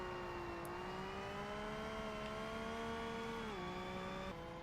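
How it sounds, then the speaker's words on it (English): Car engine drone in the racing game Forza Motorsport, a steady tonal hum with layered harmonics that rises slowly, dips briefly and shifts pitch like a gear change, continuous and fairly quiet, with no talking. "that engine noise just annoys the shit out of me now"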